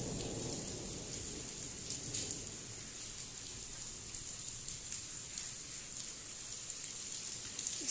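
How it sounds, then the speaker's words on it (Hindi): Heavy rain pours down in a steady, dense hiss throughout, with a low rumble of thunder beneath and no voices heard. "बहुत तेज़ बारिश शुरू हो चुकी है और इतने ज़ोर से बादल गरज रहे हैं"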